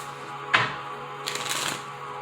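Tarot cards are shuffled up close: a quick riffle snap, a short pause, then a longer flutter of cards riffling together.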